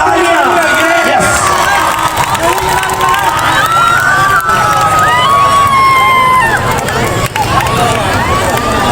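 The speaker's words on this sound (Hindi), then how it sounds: "जोरदार तालियां।" A loud crowd at an Independence Day program at a residential villa community cheers and claps, with shouting voices, whoops and children's cries layered over dense, continuous applause close by.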